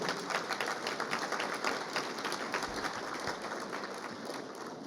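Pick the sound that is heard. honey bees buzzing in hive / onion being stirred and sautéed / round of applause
round of applause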